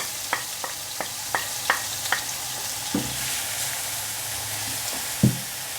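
Onions hitting melted butter with a little oil in a pan: a run of quick, evenly spaced clicks and scrapes, then a steady sizzle with a few louder stirs, no one talking.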